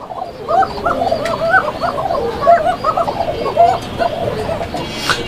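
Fancy Basiraj Koka pigeons cooing, a close pair repeating soft, rolling coos in an overlapping rhythm.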